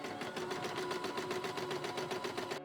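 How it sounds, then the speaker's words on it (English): A Poolin EOC05 home embroidery machine stitching steadily, its needle hammering in a fast, even rhythm with a constant mechanical hum, close and loud with no voices. "And it's embroidering."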